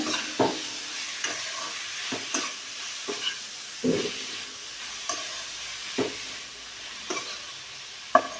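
Grated beetroot fries in a pan with a soft, constant sizzle while a spoon stirs it, scraping and tapping at a regular pace, close and without talk.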